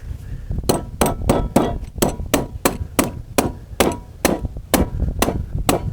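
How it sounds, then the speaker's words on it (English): About sixteen sharp hammer taps in a steady rhythm, close and bright, driving a metal nut into wood one after another while building a spring lathe. "We may have to give it a tap with a hammer here to get it to go down all the way."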